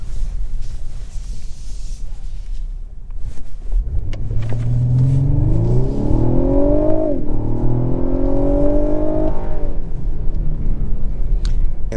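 A 2023 Lexus LS500 AWD in sport mode launches from a standstill, its engine climbing steadily in pitch through a hard 0-60 run with a brief shift dip, heard from inside the cabin over a low road rumble.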